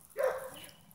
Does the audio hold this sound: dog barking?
yes